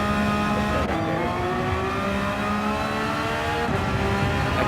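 Race car engine in Gran Turismo 7 droning loud and steady at high revs, with a slight partial throttle lift causing small dips and shifts in engine pitch, no voices.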